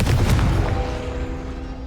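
A Confringo blasting spell explodes in Hogwarts Legacy, one loud close boom with a crackling burst that fades into a ringing tail over about two seconds.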